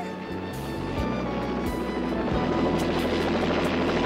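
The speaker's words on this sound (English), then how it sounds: "In a helicopter?" A cartoon helicopter approaches, its rotor chopping in a steady rapid rhythm that grows louder and closer under a whining turbine, with no talk over it.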